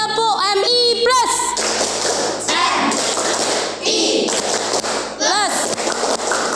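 Schoolchildren in an Indonesian primary classroom doing a rhythmic group clap chant, sharp loud claps in a patterned sequence mixed with children's shouted voices and a teacher's talk.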